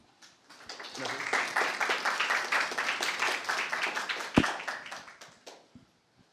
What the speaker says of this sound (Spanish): demos un fuerte aplauso al doctor Andújar